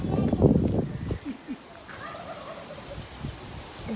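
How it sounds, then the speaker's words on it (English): Gobbling, clucking fowl calls from a rooster outdoors on a trip near Uluru, a loud burst at the start followed by fainter bird calls and some talk in the background. "I'm really scared of that chicken."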